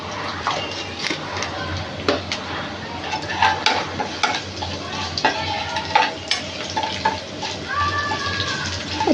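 Asafoetida dropped into hot oil on a low gas flame while cooking a toor dal and raw mango curry, a steady soft sizzle with scattered clinks and stirring scrapes, close and moderate in level.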